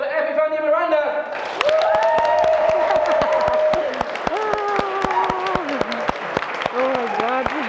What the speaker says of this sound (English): give me a huge round of applause for Epiphania Miranda